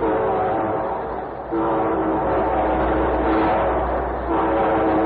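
A train rumbles steadily close by, with a sustained horn-like tone riding over the rolling noise, opening a 1952 radio broadcast; the recording sounds old and muffled.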